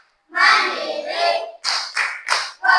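Rhythmic clapping chant performed by a group, likely children in a classroom, with a long burst of claps followed by three short, sharp clapped bursts; voices mix in with the clapping.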